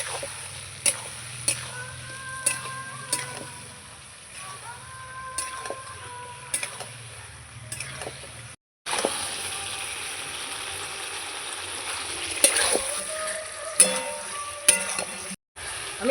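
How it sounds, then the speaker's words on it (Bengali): Vegetables being fried and stirred with spices in a pan for a Bengali fish curry, with a soft continuous sizzle, intermittent scraping and clinking of the spoon, and a brief break partway through. "এবার ভালো করে আমি কষাবো মশলার সঙ্গে সবজিগুলো"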